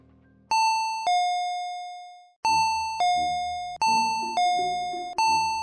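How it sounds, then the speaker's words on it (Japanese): A home intercom doorbell rings repeatedly, with loud, clear electronic two-tone ding-dong chimes repeating in quick succession, each tone ringing out and decaying. "突然家のインターホンが鳴った。"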